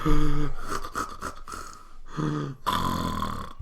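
A voice imitates snoring with repeated flapping, rattling breaths, several uneven bursts in a row, close and fairly loud.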